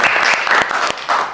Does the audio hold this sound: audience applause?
yes